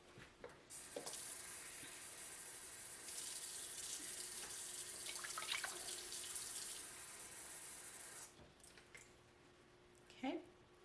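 About 1.5 cups of water poured in while cooking at home, a steady running splash lasting most of the stretch, fairly close, with small clinks near the end.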